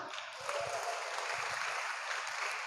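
Steady crowd clapping from a congregation at a prayer service, a dense continuous wash of applause with low thumps that could be stamping feet.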